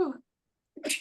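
A single short sneeze from a person, fairly quiet and close, coming right after a brief spoken exclamation, with silence in between.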